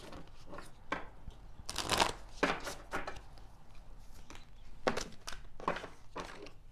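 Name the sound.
shuffling a tarot card deck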